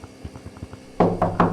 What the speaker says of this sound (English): who's knocking?